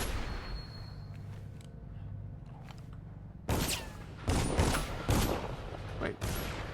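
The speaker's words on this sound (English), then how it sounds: "Wait, why is there shooting?" Gunfire in Dishonored: quiet ambience with faint voices gives way to several loud bursts of shots, each a sharp cluster, coming at irregular intervals.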